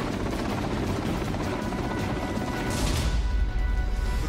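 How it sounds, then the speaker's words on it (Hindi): Russian KA-52 attack helicopter, a continuous loud rotor drone with dense low-end rumble that swells slightly near the end, heard without voices. "रूसी सेना का सबसे खतरनाक KA-52 हेलीकॉप्टर एक के बाद एक यूक्रेन के सैन्य ठिकानों को नेस्तनाबूद करता हुआ नजर आया।"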